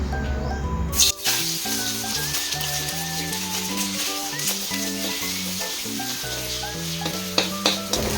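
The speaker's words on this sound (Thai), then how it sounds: "แม่จะใส่ไข่เลยค่ะ" Eggs added to a hot pan for shrimp fried rice with wild sweet leaf, a steady loud sizzle and stir-frying scrape throughout, alongside background music.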